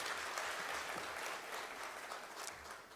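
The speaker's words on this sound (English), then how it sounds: "Please, a round of applause." Audience applause at a communicators conference, a steady wash of many hands clapping that fills the whole moment at even strength and eases off slightly toward the end.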